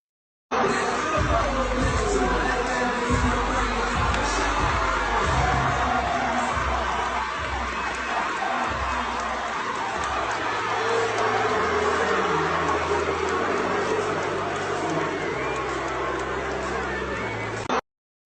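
Red Sox fans at Fenway Park react to a Yankee fan proposing to a Red Sox fan, a loud, continuous stadium crowd roar with booing that sustains throughout.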